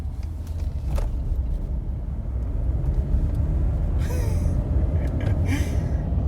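A 2021 Ford F-150 XLT pickup with the 302A package accelerates under throttle, its engine a steady, loud low rumble that builds evenly with no talking over it.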